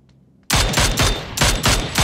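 Loud, rapid gunfire bursts in a video game, starting abruptly after a quiet moment and rattling on in dense repeated shots.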